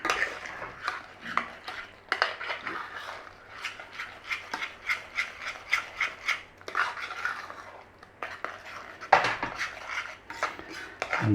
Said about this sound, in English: Give it all a stir in.